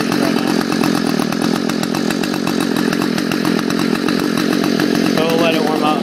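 A cold Stihl FS 45 string trimmer engine idles while warming up on a 55-degree day, a loud, close, continuous two-stroke buzz with a rough, pulsing rattle that holds steady throughout.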